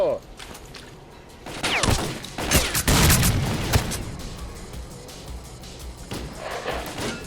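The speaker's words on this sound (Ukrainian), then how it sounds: "Це граната полетіла, обережно там." Grenade blast and gunfire in the shooter game Stalker: Clear Sky, with a loud burst of booms and crackling shots mid-clip among other battle noise, while a voice talks over the fighting.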